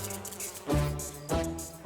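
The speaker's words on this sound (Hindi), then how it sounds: "ये मच्छर मुझे क्यों काटते, तुझे क्यों नहीं?" A mosquito buzzes close by in a scene from a Hindi TV crime drama, a steady whining drone with a couple of louder swells, alone with no talk over it.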